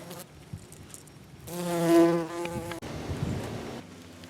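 A close bee buzz swells for about a second on a farm, droning loudly before fading into faint rustling outdoor background.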